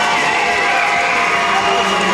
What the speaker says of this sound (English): Jeff getting the crowd a little riled up there